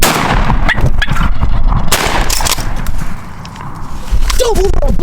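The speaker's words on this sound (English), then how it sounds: "Shoot him." Shotgun blast fired at a wild turkey during an opening-day spring gobbler hunt on public land in western New York, a loud sharp report amid outdoor noise and rustling, with a turkey gobble or call audible near the end.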